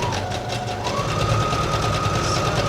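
A sewing machine runs steadily through minky fabric at a 3.5 stitch length, sewing a 5/8 seam for a shrug; a continuous close whirring hum with a fast even stitching pulse and no talk.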